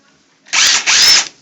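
A DeWALT cordless torque driver powered by a screw gun battery whirs up in two quick high-pitched motor bursts, close and loud, with a brief dip between them before spinning down.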